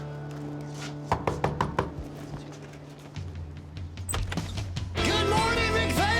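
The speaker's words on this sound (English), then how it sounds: "So I think I'm gonna just knock on the door." Knocking on the front door of a family home: a quick series of about five firm knocks close by, followed by quieter bumps and then a burst of louder mixed noise.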